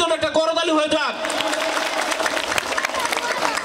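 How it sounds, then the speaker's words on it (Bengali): An audience at a school cultural event breaks into applause, a dense burst of clapping with some crowd noise that follows a presenter's voice and carries on steadily to the end. "আমরা যাদের নাম বললাম বললাম তাদের জন্য একটা করতালি হয়ে যাক"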